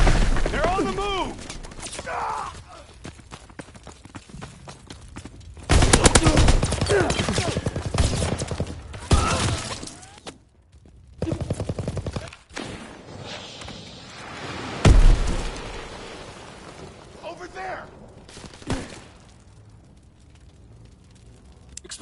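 Video game battle erupts in rapid gunfire bursts and booming grenade explosions, loud and dense with scattered pauses, while voices shout commands over the din.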